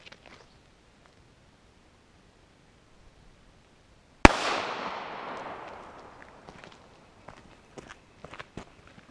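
A single sharp .45 ACP pistol shot fired at a Level IIIA bulletproof panel cracks out loud and close after a quiet stretch, its echo decaying over about two seconds, followed by a few faint ticks and shuffles.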